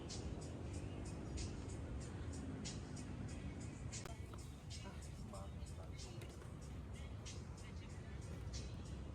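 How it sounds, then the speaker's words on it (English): Evening city traffic rolls through the streets of George Town, Penang, a dense, continuous rumble of cars and buses heard from a distance, with faint higher clatters and hisses over the steady wash. "evening traffic congests the streets"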